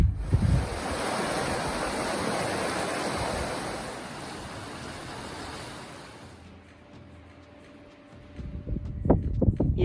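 Strong wind gusting on a mountain during the Tongariro Circuit hike, a loud roaring rush that buffets the microphone, easing toward the end before a few sharp gusts return.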